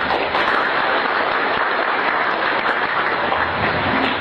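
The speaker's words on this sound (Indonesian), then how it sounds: "Kami beri aplaus beliau." A large ceremony audience applauding a speaker, with dense, steady clapping from many hands that fills the room evenly from start to finish.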